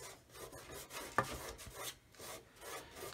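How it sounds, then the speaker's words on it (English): Cloth or fingertip rubbing down wet glue oozing from a seam on a 1/200 scale model Titanic hull, a soft, close dry scuffing in short repeated strokes with one small knock, quiet and without talk. "Rub down anything that's oozing out."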